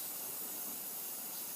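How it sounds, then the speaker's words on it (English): Spray paint can hissing steadily as black paint is sprayed onto a Halloween costume mask, a continuous close, even spray with no pauses. "Time to spray paint the whole thing black"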